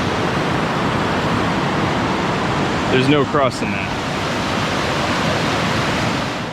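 Steady broadband rush of a remote mountain creek fills the scene, loud and continuous, with someone briefly speaking over the flowing water midway.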